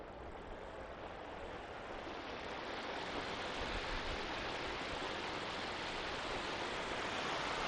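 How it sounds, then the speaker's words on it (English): Water from an aeration waterfall crashes steadily beside a lake walkway in Regina, a dense, continuous roaring splash heard up close and evenly loud, with no voices over it. "I'll walk under the waterfall"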